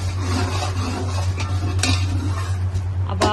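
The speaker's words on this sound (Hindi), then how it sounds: "इसको थोड़ा सा हम भूनेंगे इसी मसाले को, ताकि अच्छी सी इसकी भुनाई हो जाए।" A spoon scrapes and stirs through a masala frying in a pot for chana pulao, with clinks and scrapes over a constant low sizzle, close and fairly loud.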